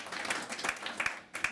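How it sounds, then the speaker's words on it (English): Brief, faint scattered clapping from an audience at a Davos event, a few uneven claps in quick succession. "So please, a round of applause to Lena, because she's the one."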